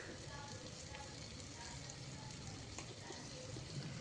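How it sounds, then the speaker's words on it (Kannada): Tomato bath mixture frying in a pan, a continuous soft sizzle with faint bubbling and crackling, steady and low in level. "ಅದು ಫ್ರೈ ಆಗ್ತಾಯಿದೆ"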